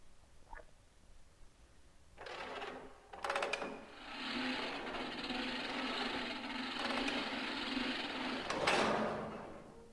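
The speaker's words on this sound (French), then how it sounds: "Une machine pour enrouler la chaîne," A chain-winding machine in Resident Evil 0 starts up and runs steadily for several seconds, a loud mechanical whirring and rattling drone with a few sharper clunks near the start and a swell at the end.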